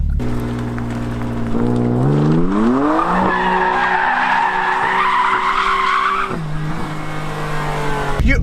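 A new BMW M3 drifting emits a loud, continuous tire squeal as its engine revs climb in pitch, holding a high strained note before dropping back briefly.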